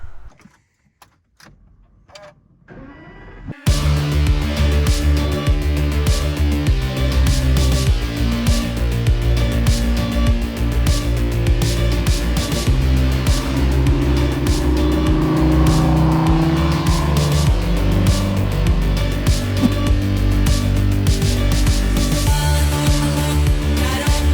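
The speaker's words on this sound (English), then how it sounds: "start the car for the first time after the new battery just to make sure all is well" A few faint clicks, then an Aston Martin V12 Vantage engine cranks on a new lithium battery and catches, settling into a loud, steady rumbling idle with occasional revs.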